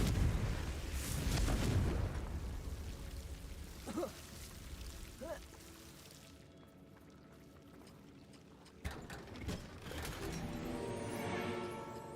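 Hogwarts Legacy, played on Switch: a Confringo fire spell bursts in a loud whooshing blast at the start, then quieter crackles and small pops, and a second burst follows near the end.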